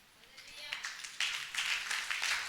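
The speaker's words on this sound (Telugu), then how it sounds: "దీనికి కూడా కొట్టాలి చప్పట్లు." An audience at a Christian sermon claps together, the applause swelling quickly after a quiet start and holding as a dense, close patter of hands.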